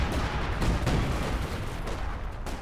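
Battle noise in the video game Company of Heroes 2 during sniper fire on a squad, a dense rumbling wash of distant shots and explosions with a few sharper cracks, steady and moderately loud.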